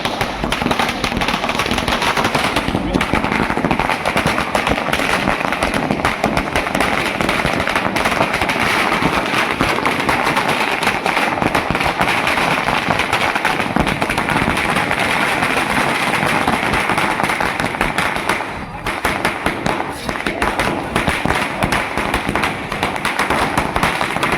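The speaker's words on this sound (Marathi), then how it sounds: "फटाके फोडून पेढे वाटून विजय उत्सव साजरा केला आहे" Firecrackers burst nonstop at a victory celebration by auto rickshaw and taxi drivers in Vasai, a dense, loud crackling barrage that rattles on continuously with only brief dips.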